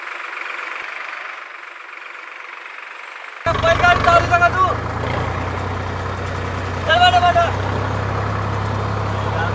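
An old tractor, worn after some twenty-five years, starts partway through and settles into a steady low idle for ploughing, with voices talking over it outdoors.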